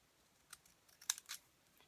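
Fancy edge scissors snip around dryer sheet petals in a few faint, quick clicks and crisp cuts, sparse and close with quiet gaps between them.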